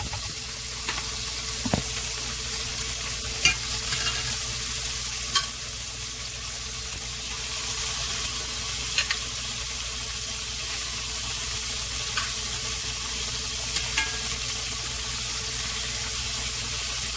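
Beef pieces for stew sear in a pot with a steady, dense sizzle throughout, broken now and then by soft clinks and stirring knocks.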